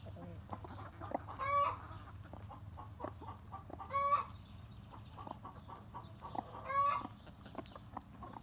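A black copper rooster and hens in a backyard flock give soft clucks, with three longer rising calls spaced a few seconds apart over a low steady background hum, fairly quiet and without talk.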